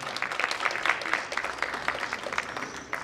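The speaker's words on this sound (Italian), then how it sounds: "Facciamo un applauso, grazie." Audience applause at a municipal council gathering in Basilicata, Italy, a moderate spread of clapping hands, fairly distant and steady for a few seconds.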